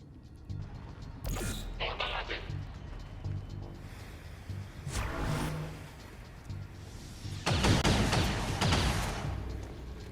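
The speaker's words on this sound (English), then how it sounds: "I'm taking fire!" Enemy gunfire in XCOM 2: Long War, a couple of sharp bursts of shots and impacts rising over a low rumbling game soundscape, with a heavier volley near the end.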